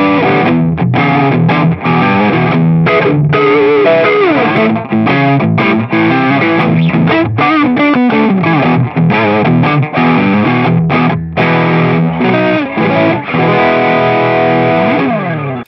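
Electric guitar on the rhythm pickup driven through a Boss SD-1 Super Overdrive pedal, loud chunky overdriven chords strummed in a choppy rhythm with brief gaps between hits.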